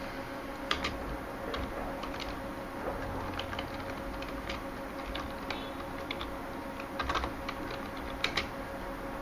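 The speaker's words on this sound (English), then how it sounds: "My typing's horrible today." Steady typing on a computer keyboard, quick irregular key clicks close by, fairly soft, with no one speaking.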